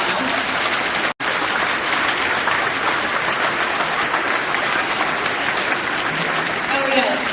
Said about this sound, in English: give all of those wonderful people a round of applause